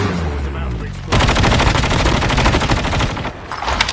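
Rapid automatic gunfire in a Call of Duty match, a dense, loud burst of shots lasting about two seconds after a quieter opening, with game sound continuing around it.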